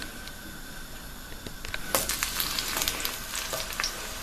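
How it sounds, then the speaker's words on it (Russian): Steady frying sizzle of eggplant slices in sunflower oil in a pan, growing louder and crackling more after a couple of seconds, with occasional pops. "Начинаем процесс обжаривания."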